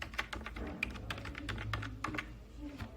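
Fingers type a UPI ID on a computer keyboard while paying income tax online, giving a steady run of close, crisp key clicks with a few sharper strikes and no talking.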